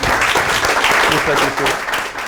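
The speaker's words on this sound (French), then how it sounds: "On applaudit bien fort, s'il vous plaît." Loud, dense applause from an audience at a Créteil municipal election broadcast, steady and close throughout, with voices talking over it.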